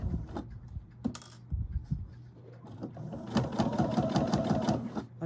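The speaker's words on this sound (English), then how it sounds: "And I'm doing my full 5/8 of an inch seam." A sewing machine stitches a full 5/8-inch princess seam through velvet, its fast steady whirring running loud from about three seconds on after a few short bursts and pauses, with soft handling noises between.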